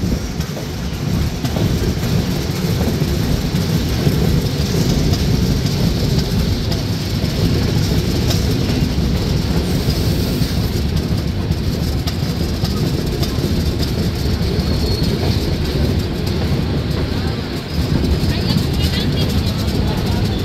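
The Padma Express passenger train rolls steadily on rails in Bangladesh, a continuous loud rumble heard from inside the coach with faint track clatter and voices underneath.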